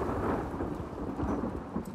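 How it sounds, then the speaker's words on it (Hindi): Thunder rumbles in a stormy flooded Seattle setting in The Last of Us Part II, a deep continuous roll over steady rainfall, with no voices. "जो बैकग्राउंड में जो बादल गरजने का जो साउंड है"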